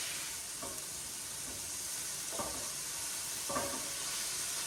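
Tofu fries in a hot pan, a constant bright sizzle with a few soft scraping stirs at intervals, close and moderately quiet with no talking.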